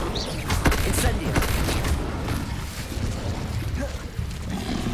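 Incendio fire spell cast in the Hogwarts Legacy video game, a dense roaring burst of fiery crackle and rumble mixed with game effects, loud and continuous throughout, with a voice calling out over it.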